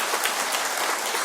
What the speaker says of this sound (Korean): 그래서 우리 성가대에게 수고했다고 박수 한번 부탁드립니다